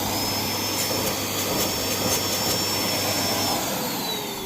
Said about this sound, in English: Connected to the vacuum cleaner,